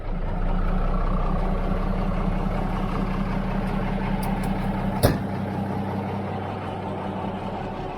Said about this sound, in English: I'm going to crank the Mac up and let it be building up air